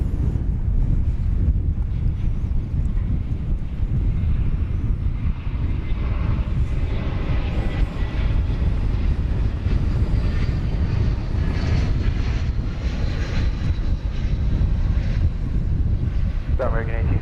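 An American Airlines jet arriving from San Diego lands on runway 18 right at DFW Airport, its engine roar steady and loud throughout, mixed with heavy wind buffeting the microphone.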